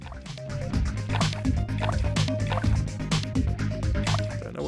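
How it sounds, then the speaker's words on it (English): Stirring liquid in the Ready Steady Cook video game gives wet, dripping, squishy sounds over constant, busy game music with a steady tonal backing. "I'm still stirring. Still stirring!"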